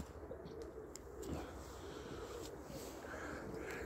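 Pale pigeons cooing in a loft among other birds, soft repeated coos and faint chirps sitting under steady background hum, with no one speaking.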